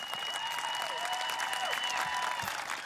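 Audience applauding graduates at the El Camino Real High School class of 2022 graduation ceremony, sustained crowd clapping over a few faint whistles and cheers, even and loud throughout.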